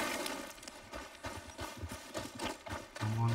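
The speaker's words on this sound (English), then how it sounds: "Come on, horse." Horse galloping in Red Dead Redemption 2: steady, rapid clip-clop hoofbeats close up and fairly loud, with a low rumble joining at the end.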